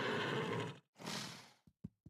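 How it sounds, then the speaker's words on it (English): A Sims game horse with the aggressive trait lets out two harsh, breathy neighs in quick succession, close and loud, ending with a few short snorts. "So that we can hear the different neighs and whatnot with our assorted new traits."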